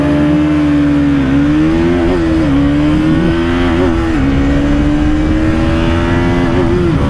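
A Bajaj Pulsar RS200 and a KTM RC200 motorcycle in a drag race, engines roaring loud and close in a continuous high-revving drone with pitch rising and dipping through gear changes, no talk.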